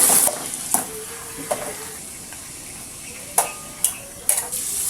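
Food frying in a pan during home cooking, a steady soft sizzle punctuated by several sharp metallic scrapes and clinks of a utensil stirring against the pan, close and with no talking.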